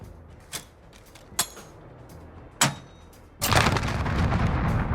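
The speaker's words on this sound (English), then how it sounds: "if you just throw a nade through it, it'll roll perfectly into large arches and it'll take people out of there" Grenade blasts in a first-person shooter on the Crash map: three short, sharp bangs spaced a second or so apart, then a larger explosion with a sustained rumbling tail that fills the rest.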